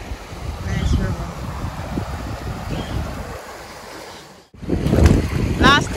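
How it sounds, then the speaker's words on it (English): A fast-flowing river, running high, gives a steady broad rush of moving water with gusty wind noise on the microphone, close and fairly loud, briefly dropping out before resuming. "Guys, nice river."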